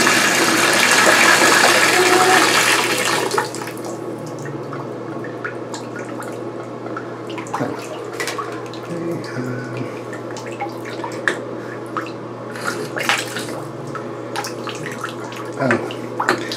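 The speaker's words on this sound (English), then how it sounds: "So I'm going to turn the water back on" Water gushes loudly from a Moen shower faucet that will not turn off for a few seconds, then drops to a softer steady running and dripping with occasional clanks.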